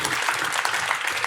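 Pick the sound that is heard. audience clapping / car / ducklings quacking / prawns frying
audience clapping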